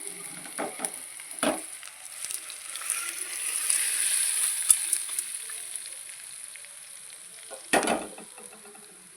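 Tempering for Andhra-style tamarind rice sizzles in hot oil with a soft, steady hiss that swells in the middle, punctuated by a few sharp clanks of a spoon against the pan.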